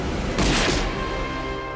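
A single sharp rifle shot cracks out in a wartime film scene, a loud burst that decays into a fading rumble.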